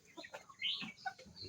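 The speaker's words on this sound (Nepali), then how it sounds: "पनि छ, ब्रोइलर कुखुरा।" Broiler chickens cluck in short, close bursts, with a few squawks overlapping in a quick, uneven rhythm.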